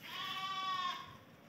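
A goat on a goat farm gives one sustained, wavering bleat, close and fairly loud, with no talk over it.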